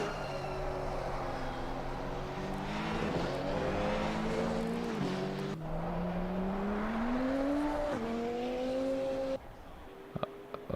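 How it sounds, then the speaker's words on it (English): Exterior exhaust note of a Porsche 935 GT2 race car in the racing game Assetto Corsa Competizione, loud and close. The engine revs climb and drop through several gear changes, then cut off sharply near the end, leaving a few clicks. "the thing has an exhaust note and a half when you're outside of it"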